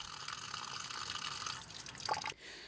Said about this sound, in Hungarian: csupán egy gombnyomás, és már is folyik a tiszta ivóvíz belőle